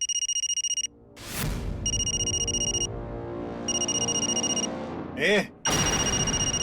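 An electronic ringtone plays in repeated bursts of bright tones, broken by a whooshing noise and a brief warbling chirp before the ringing resumes.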